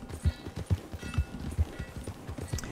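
Hooves of a horse clip-clopping in Red Dead Redemption 2 with LSPDFR police mod, steady evenly spaced thuds at a walking pace, close and clear over faint background game ambience.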